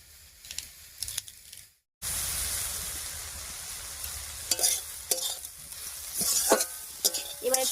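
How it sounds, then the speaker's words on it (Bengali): Raw papaya with green chillies frying in a pan: quiet handling at first, then a sudden loud, continuous sizzle with intermittent stirring scrapes, close up. "এবারে পেঁপেটা একটু রান্না হতে থাক, আর একটু ভাজা ভাজা হোক"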